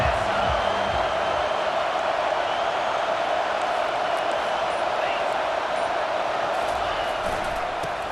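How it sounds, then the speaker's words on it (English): Stadium crowd at an Oregon versus Florida State football game roaring in a dense, sustained wall of cheering that stays loud and steady throughout, with no break. "This crowd bringing an ear-splitting welcome to their visitors."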